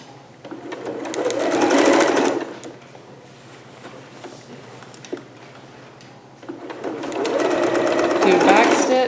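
A home sewing machine back-stitching the end of a seam on a dress bodice, two loud rapid bursts of needle chatter separated by a quieter pause with a small click and soft handling sounds.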